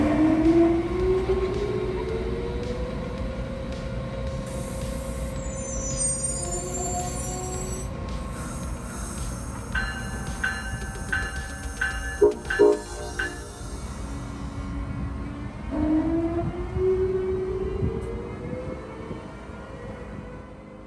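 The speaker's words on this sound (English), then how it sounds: "ACS-64 number 648 powers up, hauling train 147 out of New Haven and on towards Roanoke," An Amtrak ACS-64 electric locomotive powers up and hauls a passenger train out of New Haven, its traction motors whining and rising in pitch over a low rumble, with bells and clanks partway through and no talk.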